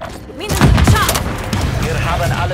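Rapid gunfire from Call of Duty Modern Warfare 3 multiplayer on the Highrise map, a cluster of close, punchy shots and thuds over a busy game mix, with someone talking over it.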